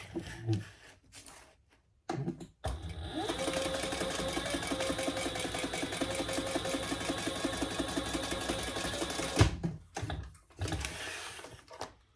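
A sewing machine stitches across the top of a cork bag, running in one steady mechanical whir for about seven seconds, with short bursts and quiet pauses before and after.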